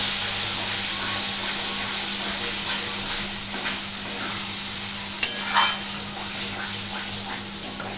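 Onion paste masala stirred in a pan over low gas for a prawn dish with peanut and coconut paste, a steady soft sizzle and hiss with faint scraping and one brief clack near the end, no talking.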